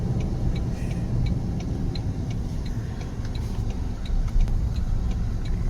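A Toyota Tundra 1794 Edition pickup truck cruising on the road at highway speed, then easing off and decelerating, with steady low road and engine rumble and a faint repeating tick from inside the cabin.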